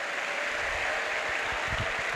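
A church congregation in Hawassa applauds during a pastor's sermon, a dense, sustained wash of many hands clapping together with no pause.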